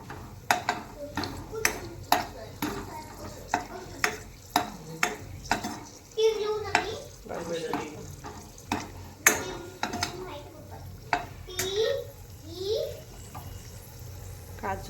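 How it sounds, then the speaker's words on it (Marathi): Cashews frying in a pan for a paneer pulao, with repeated sharp metallic taps of a stirring spoon over a low steady sizzle, close and moderately loud, with occasional brief voice sounds. "आता इकडे काजू तळायला घेतले आपले. काजू पण मस्त तळून घेते मी."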